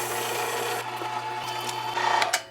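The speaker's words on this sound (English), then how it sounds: "Now that our meat is nice and cold, into the grinder we go." A meat grinder pushes cold pork through a coarse die, giving off a steady mechanical whir and grinding drone that carries on throughout, close and fairly loud, with a few light clicks near the end.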